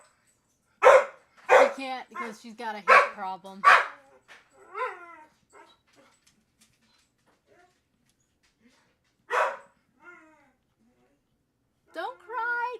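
A small dog barks loudly several times in a quick run. It then gives high whimpers and yips after a quiet pause. A person talks in between the sounds.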